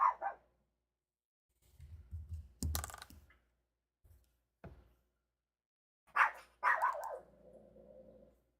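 A dog barks in short, separate bursts indoors, some louder and some softer, with gaps of quiet between them. Faint keyboard typing is heard in the background.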